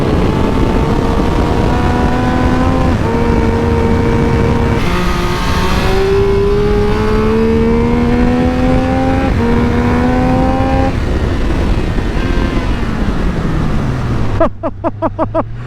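A Triumph Speed Triple RX motorcycle accelerates hard, its engine note climbing through several gears in stepped, rising pulls, loud and close, before dropping to a low idling burble at the end.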